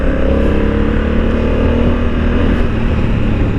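A Honda Africa Twin motorcycle in sports mode roars loudly and steadily under hard acceleration, its engine note dense and sustained throughout with no voices.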